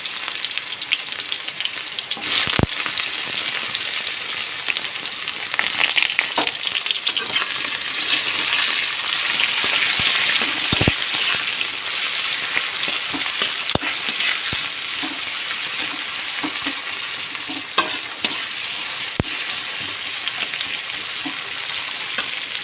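Onion frying in a small amount of oil in a pan for chicken curry, a loud continuous close sizzle with scattered sharp clicks and scrapes from stirring, no voices.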